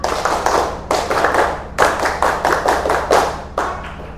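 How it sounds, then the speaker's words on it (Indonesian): Schoolchildren perform the Indonesian scout clap, tepuk pramuka, in a class setting: loud, close bursts of rhythmic group clapping in patterned clusters separated by short pauses. "coba kita tepuk pramuka"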